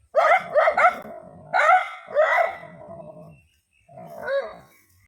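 A large dog barks loudly and close as it approaches, in a quick burst of three, then two more single barks, followed after a pause by one final bark.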